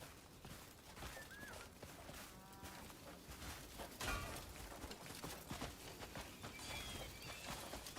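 Cow mooing in the video game Crimson Desert, several faint drawn-out moos over a busy game soundscape with clip-clopping hooves and ambient noise.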